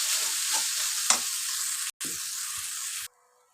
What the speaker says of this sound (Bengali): এবার আমার এই যে মটরশুঁটি বাটা, সেটা দিয়ে দিলাম, দিয়ে মিশিয়ে নিব সব কিছু।